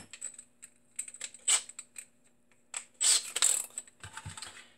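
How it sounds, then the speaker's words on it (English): A Torx 10 screwdriver loosens a screw inside a Makita battery pack, making small, close clicks and ratchet-like ticks in short bursts with quiet gaps. "now I can use the Torx 10."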